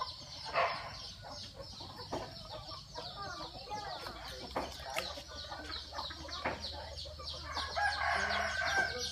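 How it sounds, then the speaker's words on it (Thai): Chickens cluck and murmur close by, with a rooster crowing at the start and again near the end, all fairly quiet. "ไก่มาแล้วไก่มาแล้วไก่มาแล้ว"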